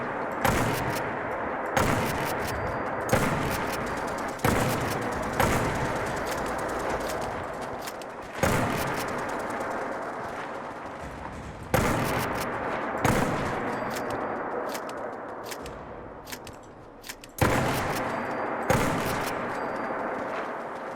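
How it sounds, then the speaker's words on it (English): Automated settlement turrets in Fallout 4 fire at feral ghouls in repeated sharp bursts, rapid gunfire cracking over a steady rumbling background, with short gaps between volleys. "luckily our turrets are already going to work"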